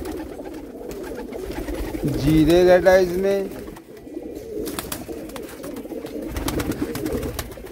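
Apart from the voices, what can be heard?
breeder pigeons cooing at a pigeon sale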